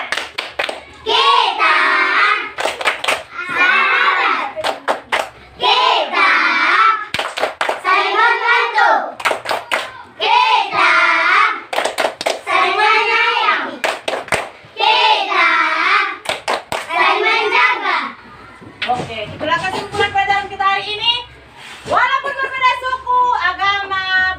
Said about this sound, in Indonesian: Coba dulu kita tepuk sahabat dulu. Tepuk sahabat.